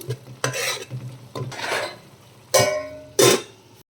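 A curry of raw banana with spring onions, tomato and turmeric cooks in a pan, with short bursts of spatula scraping and stirring over a soft sizzle, close and with no talking.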